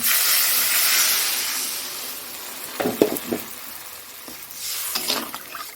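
Water poured into a hot pan for a prawn malaikari: a loud initial hiss and sizzle that fades, then scattered clinks and scrapes of stirring, with no voices.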